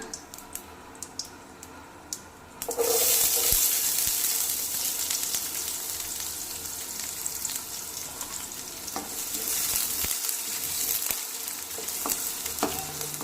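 Onions sautéing in oil with mustard seeds and cashews for egg vermicelli biryani: quiet at first, then a loud, steady sizzle kicks in and carries on with soft stirring scrapes and occasional ticks.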